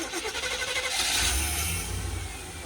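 A dragster engine that keeps stalling cranks and catches, then runs with a rough, throbbing idle and a slight rise in revs, heard close up.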